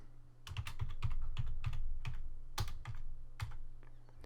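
Rapid keystrokes on a computer keyboard while an administrator username is typed during a Windows Server 2012 R2 setup: a quick, close run of sharp clicks with small uneven pauses and no voices.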